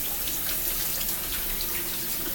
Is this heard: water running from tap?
yes